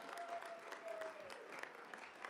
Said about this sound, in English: Mr. Johnson, one more round of applause.